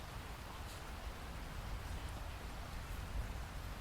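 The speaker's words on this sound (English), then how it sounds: "against the calming, rhythmical patter of persistent rain and the sound of a distant thunderstorm" Persistent rain patters in a steady, soft hiss with a faint low rumble beneath it, like a distant thunderstorm, holding an even, quiet level throughout.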